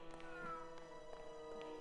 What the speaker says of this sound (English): It is meowing at me.